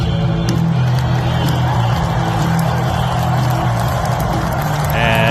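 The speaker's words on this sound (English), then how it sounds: "As they're getting the crowd jacked up for the entrance for the Iowa Hawkeyes" Pregame crowd roar at Kinnick Stadium ahead of the Iowa Hawkeyes' entrance, a loud, steady wash of many voices and stadium noise throughout, with a brief rise near the end.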